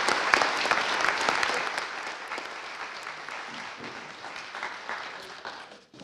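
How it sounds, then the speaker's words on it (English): Audience applause at a wildfire town hall in the Chumstick area, a full room clapping steadily for about six seconds before thinning out at the end. "Paul Hesberg a round of applause"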